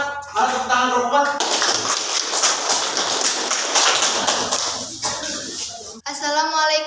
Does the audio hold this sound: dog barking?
no